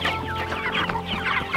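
Backyard chickens clucking close by, a busy overlapping chorus of short throaty clucks with no talk.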